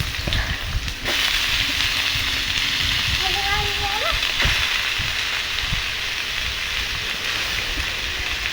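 Potatoes and onions frying together in a pan give a steady, dense sizzle like heavy rain that runs throughout, with a brief whistly voice-like tone partway through.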